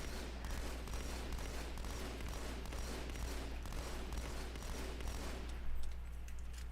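Battle rifle gunfire in Halo, the video game, heard as steady rapid bursts of shots over a loud, constant battle din, close and dense throughout, with no talking.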